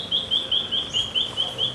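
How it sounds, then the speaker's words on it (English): A New Holland honeyeater chirps in a quick, repeating series of high, bright notes, about eight evenly spaced calls, close and clear over a quiet background. "it's spring and all the birdies are busy."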